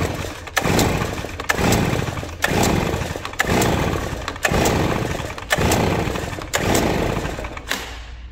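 A Stihl BR 430 backpack blower engine runs loudly and close during a bench test, its revs surging and easing in a steady cycle of about one pulse per second before dropping away at the end.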